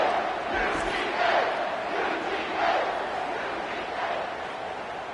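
Home crowd at a college football game between Alabama and Georgia, a big stadium roar of cheering and shouting swelling in waves, sustained and loud with a commentator's voice faintly underneath.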